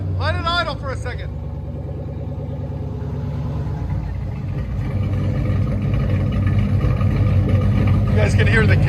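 Cammed 1998 Chevy Camaro Z/28 with a 5.7L V8 and Flowmaster Outlaw dual exhaust idles loud and near, with a steady deep lumpy burble that swells slightly. Voices are briefly heard at the start and end.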